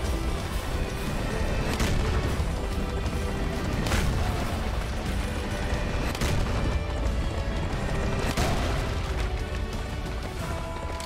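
Heavy cannon fire booms repeatedly in Serious Sam 4 as cannonballs are launched at skeleton enemies, loud sharp blasts recurring every couple of seconds over a dense, continuous roar of combat noise.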